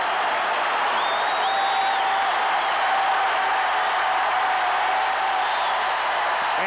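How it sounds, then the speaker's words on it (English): Baseball crowd at the 1985 World Series Game 1, Cardinals at Royals, rising and cheering at ball four, a broad, steady roar of a large stadium audience sustained throughout, distant and even. "And with the crowd rising as one, it's ball 4."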